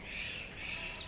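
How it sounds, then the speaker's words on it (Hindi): Parrots perched together in a tree give off a steady, continuous squawking and chattering, fairly distant and moderately faint, with no talk. "पेड़ पर देख लीजिए कितने तोते बैठे हुए हैं।"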